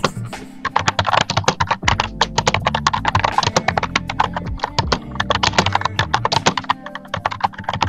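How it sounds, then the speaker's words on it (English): Fast, heavy typing on a computer keyboard during a VR chat, a dense continuous clatter of loud close key strikes with no pauses. "Dude, your poor keyboard."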